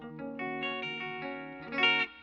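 A clean electric guitar tone through an AmpliTube 5 clean amp plays a few sustained chords and notes, bright and ringing with a spacious reverb tail, with no talking.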